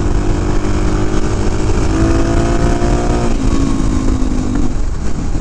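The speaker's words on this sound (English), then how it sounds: "That engine brake just brakes extremely hard for some reason." Loud, close engine and wind roar from a Suzuki DRZ motorcycle under hard engine braking, the motor's tone winding steadily downward in pitch as the bike decelerates, with no talk.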